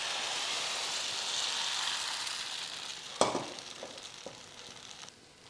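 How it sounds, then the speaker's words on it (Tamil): Appam batter poured into a hot appam pan gives a steady, soft sizzle that fades after a sharp clink of a ladle or pan, followed by a few faint taps. "ஆப்பக்கல் பாருங்கள் நல்லா சூடாயிருச்சு. இதில் ஒரு கரண்டியை ஊற்றி அப்படியே சுற்றி வச்சு விட்ருவோம்."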